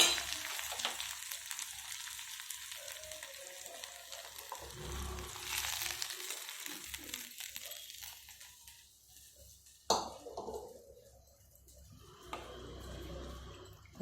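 Oil tempering (popu) for potato poori curry sizzles and hisses in a pan, a steady moderate frying noise with bursts as spices and liquid are added and stirred.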